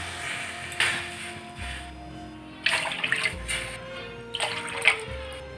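Water is poured in a few separate bursts onto washed rice in a pot for Kanika Bhog, each pour a short splashing gush between quieter pauses with a low mechanical hum underneath.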